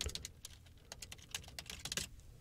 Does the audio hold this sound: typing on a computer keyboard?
yes